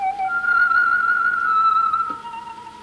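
Ondes Martenot, an early French electronic instrument, holding a pure, whistle-like sustained tone that glides between pitches with slight vibrato, clear and alone.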